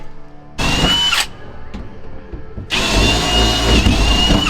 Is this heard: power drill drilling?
yes